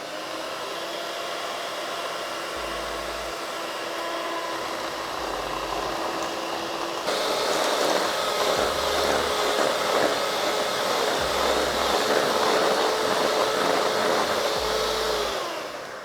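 An electric mixer beating eggs and flour for chocolate cupcakes whirs steadily and loudly without pause, its pitch stepping up to a fuller, harsher drone about halfway through.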